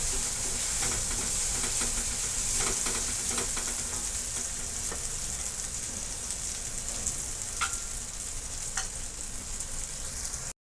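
Crushed, chopped garlic frying in hot oil in a dhaba-style garlic fenugreek dish, a steady close sizzle throughout with occasional stirring clicks and scrapes, no talking.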